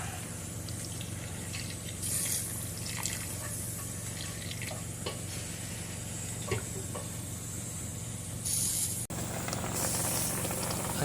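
Pure vinegar boiling in a hot pan, a steady close hiss and sizzle with faint bubbling and a few clicks and clatters of cookware, no speech.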